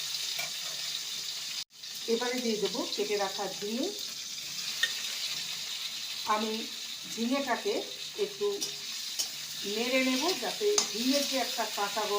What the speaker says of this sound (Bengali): ফোড়নে দেব একটা গোটা শুকনো লঙ্কা আর হাফ স্পুন কালো জিরে দিয়ে দেবো